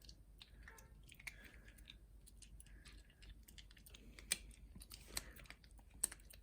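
A dog crunches a treat, producing quiet, close, irregular crisp crunching and chewing clicks with a few sharper snaps near the end.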